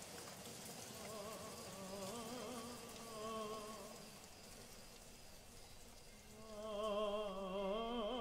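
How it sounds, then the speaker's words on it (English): Heavy rain pours down steadily, a dense hiss of drops with wavering tonal sounds rising and falling over it, swelling louder toward the end. "The sky is full of black rain. It pelts down"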